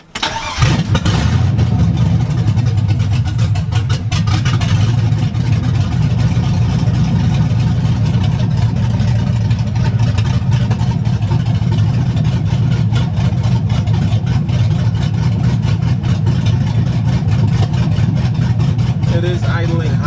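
The 1976 Chevy C10 pickup engine runs steadily at a raised idle after fuel system work, a loud, close, continuous low rumble that holds evenly throughout.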